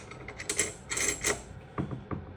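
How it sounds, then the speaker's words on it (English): Locking nut being screwed down onto an Edhard PVS double manifold for filling cream puffs, giving a few quiet metallic clicks and ratcheting scrapes in short bursts, close and alone. "We have another locking nut that's going to go on here, and it's going to lock this down."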